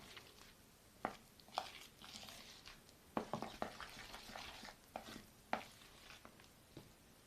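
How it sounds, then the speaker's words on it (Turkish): Pastry dough for puffy Turkish poğaça being mixed by hand as flour goes in, with soft irregular squishing and scraping strokes and a few sharper taps, fairly quiet and close, with no talking. "Daha sonra elle karıştırıyorum."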